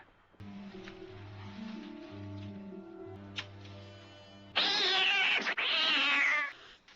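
A cat lets out a sudden loud, drawn-out yowl, two strained meows back to back, in a 1980s horror film scene, following a quiet passage of low musical tones.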